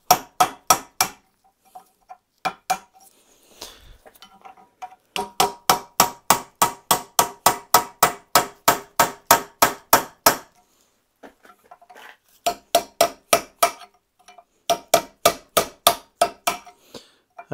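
A sharp chisel is struck with a hammer against a seized carburettor, sharp metallic blows in fast, even bursts of about ten to fifteen hits separated by short pauses, loud and close, with no talking.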